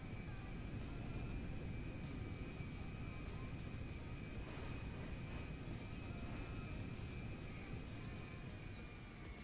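An airplane engine in the video game GTA 5 runs with a constant, fairly quiet whining drone and a steady tonal hum, with no talk over it.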